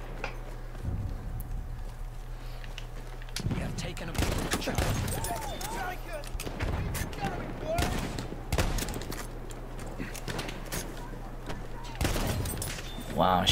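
A double-barrel shotgun fires repeatedly in a Battlefield 1 multiplayer match, with loud, close blasts at irregular intervals over a steady low drone, mixed with other distant gunfire.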